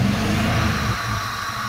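A 1997 Dodge Caravan engine runs after a loose-contact fault is repaired, giving a brief close rumble with a short rev that settles back down within under two seconds.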